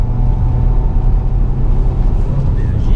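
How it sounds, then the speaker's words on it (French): A Renault Vel Satis four-cylinder turbo engine with a six-speed gearbox runs with a low, steady droning rumble from inside the cabin, loud and continuous without words. "c'est le son du moteur qui est un peu différent, bien sûr. Parce que là, on est sur un 4 cylindres turbo."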